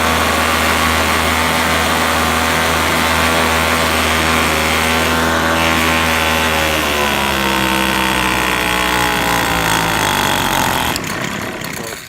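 Gas leaf blower engine roaring loud and steady up close after its cylinder head bolts were tightened, holding a constant high-revving drone before dipping slightly at the end.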